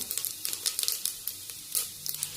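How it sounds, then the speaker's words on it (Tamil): Black pepper and whole spices such as cumin sizzling and popping in hot oil in a pan, a steady close crackle with rapid irregular spits throughout. "மிளகு நல்லா பொரிய ஆரம்பிச்சிருச்சு"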